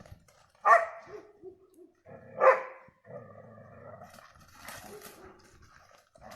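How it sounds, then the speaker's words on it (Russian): A dog gives a couple of sharp barks a couple of seconds apart, mixed with whimpering and growly play sounds nearby. "Одна лает, другой играет."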